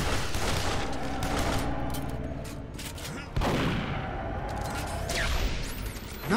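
Gunfire in the first-person shooter Duke Nukem Forever: continuous loud overlapping shots and impacts, a sharp blast midway, then further firing with whooshing effects.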